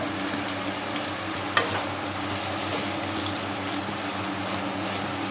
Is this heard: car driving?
no